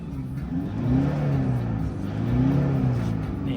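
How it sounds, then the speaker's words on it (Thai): The 3.0 D4D diesel engine of a Toyota Hilux Vigo double cab runs nearby with a low, steady hum that swells gently twice in pitch and loudness, with no talking. "เครื่องยนต์เดินนิ่งๆเงียบๆ"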